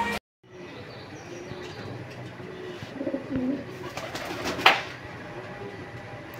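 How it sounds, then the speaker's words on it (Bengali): Fancy pigeons kept for sale coo at a market, a few soft low coos under steady background hum, with a sharper bird call and a clatter standing out near the end. "এই যে দেখতে পাচ্ছেন এখানে বেশ কিছু কবুতর আছে"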